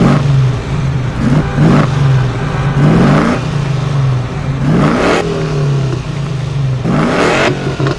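A restored car engine idles with a steady low rumble and revs up sharply four times in a repeating rhythm, each rev rising and falling back to idle, loud and close with no talking.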